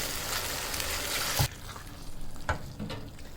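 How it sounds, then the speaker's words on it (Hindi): Chickpeas frying with masala in a pan, a dense close sizzle with stirring scrapes, broken by a sharp clatter before the frying continues more quietly. "इन चनों को अच्छे से इस मसाले के साथ भून लूँगी।"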